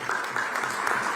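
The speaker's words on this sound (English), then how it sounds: "let's give a big round of applause" Audience at the Digii100X conference in Visakhapatnam bursts into dense, steady applause, many hands clapping together at even loudness for a brief stretch with no voices above it.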